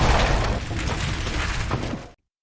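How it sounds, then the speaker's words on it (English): An explosive launched into a carriage goes off in one dense, roaring blast with crackling, debris-like texture. It holds loud for about two seconds, then cuts to silence. "launched an explosive into the carriage"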